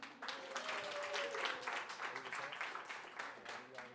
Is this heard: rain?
no